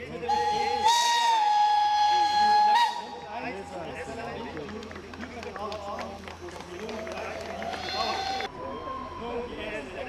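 A steam locomotive at a railway parade gives a loud, sustained whistle with a hissing release, then quieter mechanical sounds, and a second shorter whistle blast follows.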